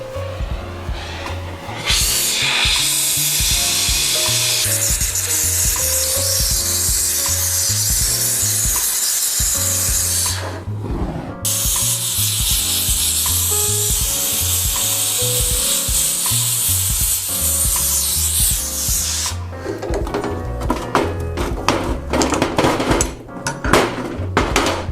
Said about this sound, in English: make ourselves an ingot out of silver